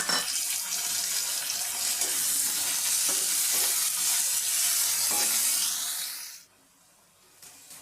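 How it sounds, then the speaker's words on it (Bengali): Chili and onion frying in hot oil in a home kitchen, a steady loud sizzle with occasional stirring clicks, cooking a drumstick (sajne data) dish, cutting off abruptly near the end to quiet. "তেলটা আমার গরম হয়ে গিয়েছে এর মধ্যে লঙ্কা আর পেঁয়াজ দিয়ে দিলাম লঙ্কা পেঁয়াজটা আমি লাল করে নেব"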